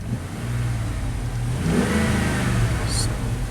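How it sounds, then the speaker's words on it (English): A Dodge truck engine with an erratic idle revs up steadily from a low rumble, holding a loud, continuous mid-range roar throughout. "You rev it up a little bit."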